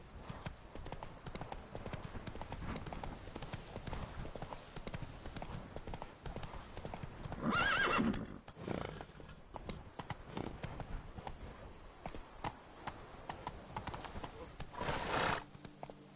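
Roach, a horse in The Witcher 3, gallops with a fast, steady clip-clop of hooves close by, broken by a couple of louder whooshing bursts. Someone speaks over the hoofbeats.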